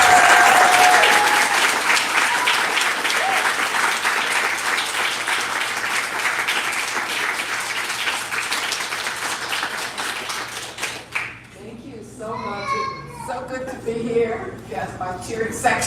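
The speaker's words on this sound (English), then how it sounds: "So I need you to make some real radical left red endless noise for Professor Dorothy Roberts" Crowd at an evening talk applauds and cheers loudly for a professor as she is introduced, dense sustained clapping that slowly fades over about eleven seconds before she begins speaking.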